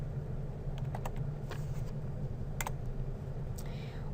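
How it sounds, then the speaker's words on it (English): Computer keyboard keys are typed into an Excel spreadsheet, with several light, quiet clicks scattered over a low steady background hum. "let's go ahead and type project average here"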